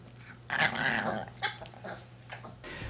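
A Chihuahua growls close up, a low rumbling snarl with a few sharper bursts, recorded as raw material for small dragon creature sounds in an animated film.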